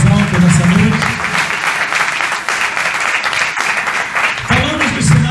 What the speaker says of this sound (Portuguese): Você pode aplaudir o Senhor mais alto nessa noite?